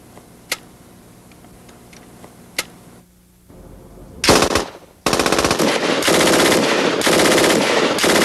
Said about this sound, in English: Removing the cradle and tripod converted the Stoner to a light machine gun.